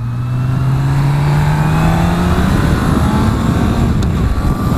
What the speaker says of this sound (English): The engine is actually relatively quiet on it. It's got a nice note about it